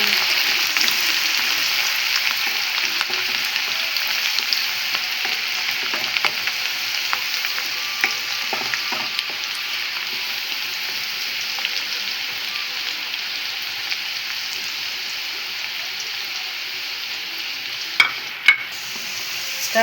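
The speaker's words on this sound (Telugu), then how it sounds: "ఇది నూనెలో ఇట్లా ఫ్రై అయితే మంచి వాసన వస్తుంది." Ingredients for a lemon pickle frying in oil, a steady even sizzle that carries on throughout with a few soft clinks near the end and no talking.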